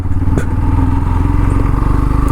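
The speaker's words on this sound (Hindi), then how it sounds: "यानी कि ये जो बाइक है मेरी वाली, इसका जो साउंड है" A Yamaha FZ motorcycle engine running while riding, a deep, bassy, steady rumble with low throbbing pulses, loud and close, with no speech over it.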